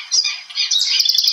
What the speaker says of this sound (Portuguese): Cantar dos passarinhos.